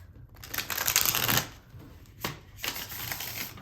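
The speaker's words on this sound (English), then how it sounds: "these cards are hard to shuffle" Tarot cards being shuffled up close in quick riffling bursts, a long rustle followed by a brief pause, a sharp snap, then more shuffling, fairly quiet with no voices.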